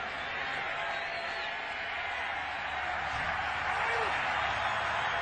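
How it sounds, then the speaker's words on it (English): Steady stadium crowd roar at Lambeau Field during a Falcons at Packers NFL game, a broad even wash of thousands of voices holding at a constant level for the whole stretch, heard from a distance with no distinct cheers or claps. "Crowd starting to come alive here again at Lambeau."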